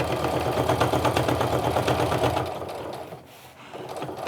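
A sewing machine stitching along a clutch seam with a guide set at the seam allowance: a fast, even, close mechanical whirr for about two seconds, then it slows and quiets, with a brief softer restart at the end.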